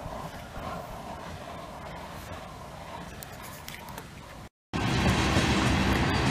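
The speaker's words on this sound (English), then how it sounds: "Why is it every time I want to make a video, a train goes by?" A passing train rumbles and rattles steadily nearby with a clickety-clack undertone, then swells louder after a brief dropout as it comes closer.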